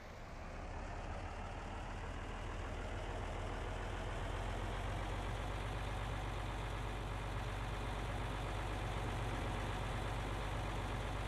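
A farm tractor engine in Farming Simulator 22 runs at a steady, loud drone with a deep low rumble, holding even and unbroken throughout with no talking.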